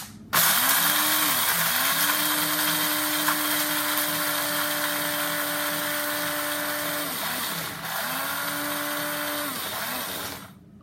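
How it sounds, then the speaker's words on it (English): Coffee beans are ground in a grinder with a loud, steady mechanical whir, running in three long bursts with short dips in pitch between them, close and with no talking. "So I'm gonna go ahead and grind these beans."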